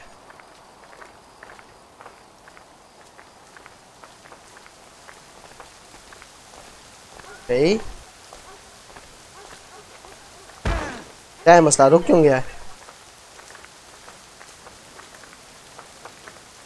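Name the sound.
rain in video game Assassin's Creed 3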